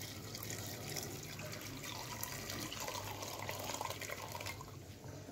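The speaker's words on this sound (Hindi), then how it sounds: "तो अब मैं इसमें डालूंगी चाय पत्ती का पानी।" Tea-leaf water is poured onto washed chickpeas in a home kitchen, producing a faint, steady trickling and splashing that runs for several seconds without speech.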